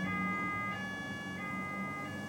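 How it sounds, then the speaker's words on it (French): An emergency vehicle siren wailing steadily as the car passes at speed, fairly faint and distant over a constant background hum. "Une voiture sirène passe à vive allure et me met sur mes gardes."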